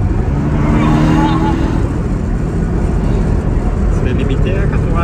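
Porsche 718 Cayman engine revving hard under acceleration, a loud, steady roar from inside the cabin that holds throughout, with people talking over it.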